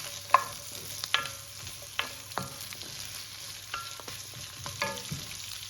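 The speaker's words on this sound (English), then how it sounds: "I'm going to be adding our capsicum. And then I'm going to stir that in" Carrots and capsicum sizzle and fry in a pan while a utensil stirs them, its irregular scrapes and clicks landing every second or so over a steady, close sizzle. No one speaks.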